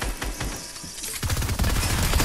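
A rapid-fire weapon in Fortnite unleashes dense bursts of gunfire, a quick rattling volley that grows heavier and louder in the second half, with no voices over it.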